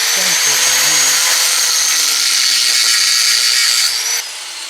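Power tool cutting through metal with a cut-off wheel, a loud, steady high-pitched grinding whine that holds for about four seconds before easing off, with a faint voice briefly underneath at the start.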